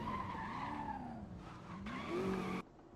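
Porsche race car skidding in a racing video game, a loud sustained tire squeal with shifting engine pitch that swells near the end, then cuts off abruptly.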